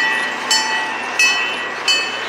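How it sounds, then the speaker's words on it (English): A train rolls past at the Kemah Boardwalk with a steady rumble and hiss, punctuated by three evenly spaced clanking bursts from the wheels. "Train!"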